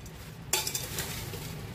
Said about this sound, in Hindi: और इसे अच्छी तरह से मिक्स कर देंगे।